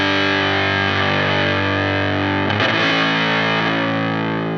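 Electric guitar played through a distortion effect with a low cut toggle switched in to thin the tone, giving a steady, dense and buzzing sustained chord, with a brief scratchy disturbance midway, heard alone.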